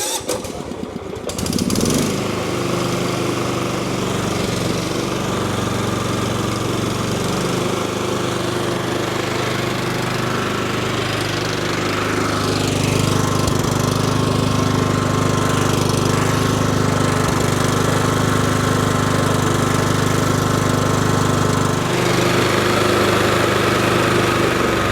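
A lawn tractor engine with the choke applied cranks and sputters continuously for a long stretch, a loud, close, rough mechanical drone.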